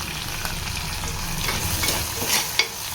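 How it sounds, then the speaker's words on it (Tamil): Onions and tomatoes sizzle steadily in a pan for a Tamil chickpea curry, a continuous close frying hiss with occasional scrapes of stirring and no one talking. "வெங்காயம் தக்காளி நல்லா வதங்கி பேஸ்ட்டாக ரெடி ஆகணும்."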